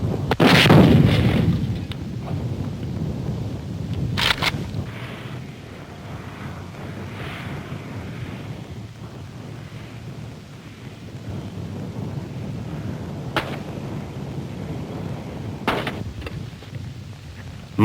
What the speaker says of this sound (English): One weapon used was the RPG-7, the rocket-propelled grenade.